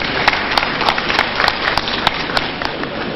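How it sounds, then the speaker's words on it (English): An audience at an International Co-operative Day celebration in Lagos State applauds, a steady, moderately loud patter of clapping with a few sharper claps standing out. "I can hear your applause"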